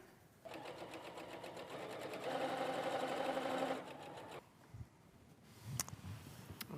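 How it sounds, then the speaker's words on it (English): A sewing machine stitches a quilt-as-you-go Venice placemat, a fast steady needle whir running for several seconds and then stopping, followed by faint handling clicks. "I'm going to stitch one more time."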